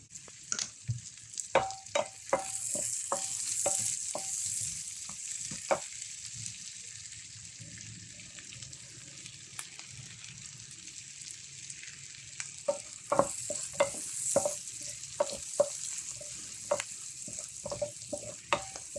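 Carrots stir-fry in a pan with a steady sizzle, broken by repeated sharp scraping and clinking strokes of a utensil against the pan, close and alone with no talk.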